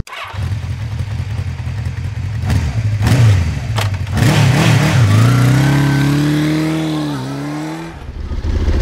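A QJ SRT600SX motorcycle engine roars loudly and close, revving with a few sharp throttle blips before climbing steadily through an acceleration, easing briefly, then pulling again and cutting off at the end.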